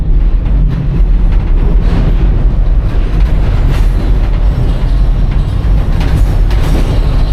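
A Reading & Northern train rumbles past continuously, loud and close, with heavy low roar and faint rhythmic clatter of wheels on track, partly inside a tunnel.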